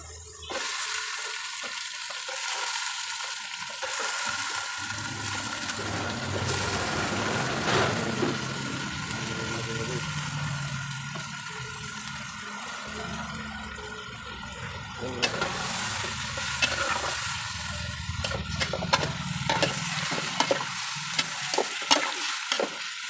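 Chicken sautéing in a pot as the base for Filipino tinola, giving a continuous sizzle and frying hiss over about twenty seconds with occasional stirring scrapes and clatter, a faint low hum underneath.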